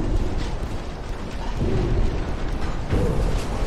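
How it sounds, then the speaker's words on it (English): Three torpedo hits strike a battleship in Ultimate Admiral: Dreadnoughts as deep, rumbling booms roughly a second and a half apart, each swelling over a constant low roar of water and machinery, with no talking. "Well, I took 3 torpedo hits."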